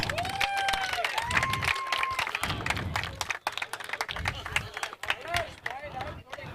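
A crowd at a cricket tournament prize distribution breaks into scattered clapping and cheering, with voices talking over it and the applause coming in bursts.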